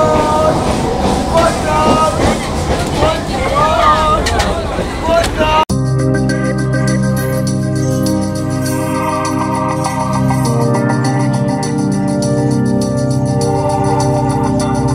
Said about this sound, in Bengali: 11:26 ট্রেন ছেড়ে দিল লক্ষ্মীকান্তপুর থেকে নামখানার উদ্দেশ্যে।